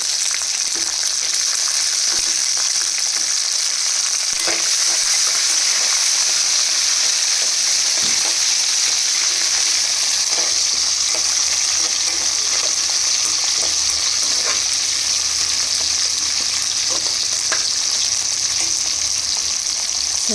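Tomatoes fry in a pan for bisi bele bath, giving a steady, loud sizzle with occasional stirring scrapes throughout, and no talking.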